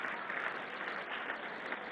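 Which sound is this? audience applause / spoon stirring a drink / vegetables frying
audience applause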